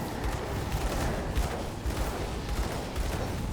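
Dense, continuous video game gunfire from shooting at enemies, a steady roar of rapid overlapping shots and impacts filling the whole stretch with no pauses.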